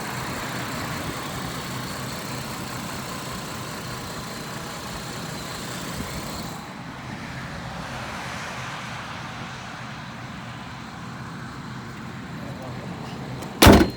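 The hood of a 2002 Chevy Trailblazer LTZ 4x4 shuts with one loud, sharp slam at the very end, after a long stretch of steady outdoor background noise.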